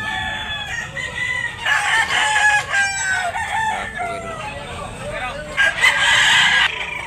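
A white-legged bullstag rooster crows loudly and close, its drawn-out calls rising in two strong bursts over a stretch of steady cackling and farmyard fowl noise.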